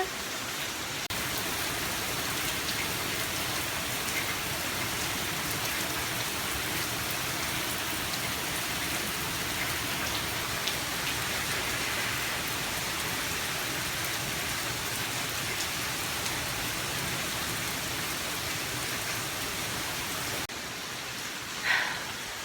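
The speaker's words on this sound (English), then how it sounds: "don't you just love the sound of the rain?" Steady rain on a stormy night falls around a porch area, making a soft, even hiss that stays constant and moderately quiet throughout, with no voices.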